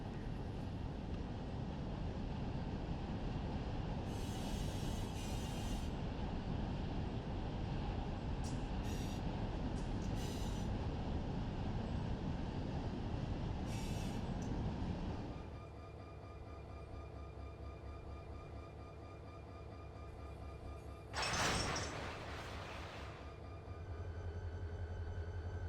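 Freight cars are shoved back along the Arvin Branch near Bakersfield in Run 8 Train Simulator, with a long steady rumble of rolling stock that drops away midway, then a brief louder burst of rail noise before settling again.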